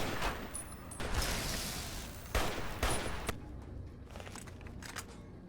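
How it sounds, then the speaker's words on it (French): Heavy gunfire from a .50 caliber anti-materiel rifle in the video game Fallout New Vegas: a few loud, booming shots about a second or two apart, each with a broad blast and a lingering tail, with no talk. "c'est un fusil antimatériel, donc c'est du calibre 50"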